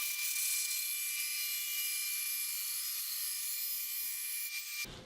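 A band saw cuts a thin wood inlay strip off a board, giving a steady, loud high-pitched whine with a buzzing edge that runs without a break for about five seconds and then stops abruptly.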